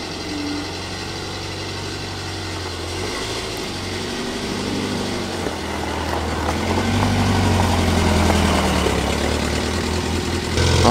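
A Ford V8 Pilot's flathead V8 idles steadily and close by, a continuous low rumble that swells slightly louder toward the end.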